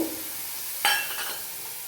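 Egg malai curry masala is sautéed in a pan, with a soft sizzle and one brief stirring scrape partway through, close by.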